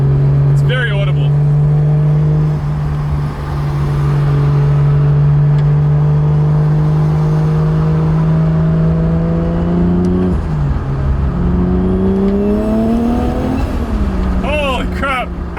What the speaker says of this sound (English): I don't know where that boost leak's coming from